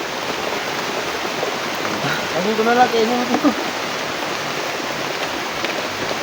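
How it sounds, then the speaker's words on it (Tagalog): Heavy rain pours down in a steady, loud hiss that fills the whole clip, with someone talking briefly over it partway through. "Grabe yung ulan no. Malakas na talaga."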